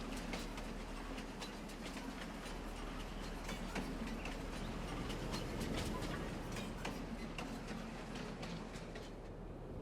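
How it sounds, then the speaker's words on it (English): A train rolls past on a farm in the video game Farming Simulator 22, a continuous low rumble with regular clicking rail beats repeating throughout, moderately loud with no voices. "And here's the train."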